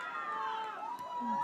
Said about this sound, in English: The crowd just urging her to just use that foot of hers